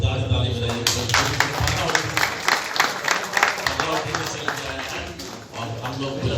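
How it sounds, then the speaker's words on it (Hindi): An audience claps loudly and steadily at a Bhojpuri film industry event welcoming guests from the Punjabi industry of Chandigarh. The dense applause lasts throughout, mixed with crowd noise. "आप लोग जोरदार ताली बजाइए"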